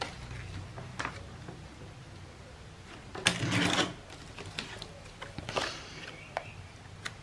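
A handheld paper cutter slices envelope paper: a brief sliding, scraping cut in the middle, surrounded by light clicks and paper handling, fairly quiet and close.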